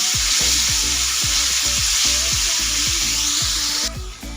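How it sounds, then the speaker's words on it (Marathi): Onion sautés in hot oil in a pan, making a loud, steady sizzle with rhythmic stirring taps repeating about twice a second. "हलकासा असा आपला कांदा इथं तेलामध्ये परतलेला आहे"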